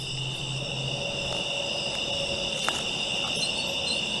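Crickets chirp in a continuous high-pitched trill, steady and moderately faint, with no voices present.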